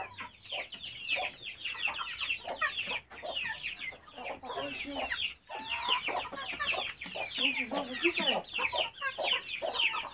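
Farmyard chickens, including a naked-neck hen, cluck and chatter continuously in a dense flock, close and fairly loud, with a few brief gaps and faint human voices mixed in.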